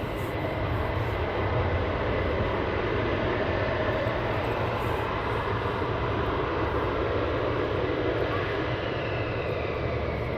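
Fighter jets taxiing at RAF Lakenheath give off a steady, loud, broadband engine roar that holds constant throughout, with no voices.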